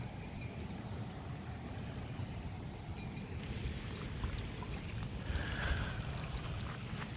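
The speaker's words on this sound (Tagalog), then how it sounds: "Speedboat." Speedboat motor running on open water, a steady droning engine hum with broadband splashing and wind, constant and fairly near throughout with no voices.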